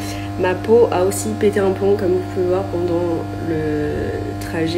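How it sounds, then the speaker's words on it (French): A malfunctioning microwave oven gives off a steady low electrical hum with a faint buzz, running continuously beneath a person talking throughout. "Le bruit que vous entendez là, c'est mon micro-ondes qui pète un plomb."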